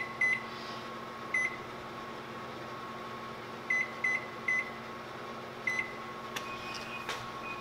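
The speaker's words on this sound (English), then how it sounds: "That was my second timer." A kitchen oven timer beeps in short electronic bursts during sourdough bread baking, sounding in scattered pairs and triplets over a low steady hum, fairly faint with no talk.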